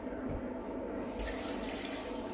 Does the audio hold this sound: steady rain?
no